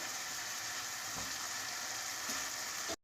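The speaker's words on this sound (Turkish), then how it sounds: "Ve bunları da güzelce kavurmaya devam ediyorum." Steady, dense sizzling of green onions sautéing in a hot pan, continuous and close, with a brief cut at the end.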